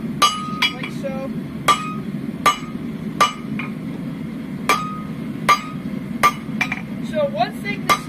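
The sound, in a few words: hammering steel on an anvil, blacksmithing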